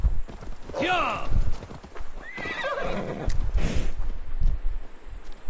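Horse hooves clip-clop in the Viking-era action game Assassin's Creed Valhalla, with a couple of neighs and whinnies over a steady trot, while voices talk faintly underneath.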